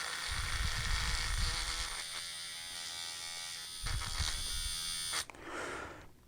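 A small electric whisk buzzes as it mixes a lemon-flavored drink, running in a steady motorized hum with uneven rattling bursts before stopping near the end.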